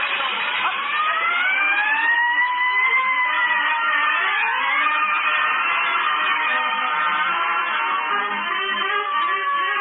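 A loud fire engine siren rises and falls continuously, steady and close, with no voices over it.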